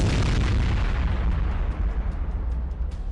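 Bunker buster bomb explosions: heavy, continuous rumbling blasts with deep low-end booms that roll on without pause, loud and close, with no voices.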